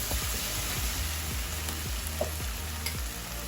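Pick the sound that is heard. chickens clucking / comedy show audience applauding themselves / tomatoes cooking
tomatoes cooking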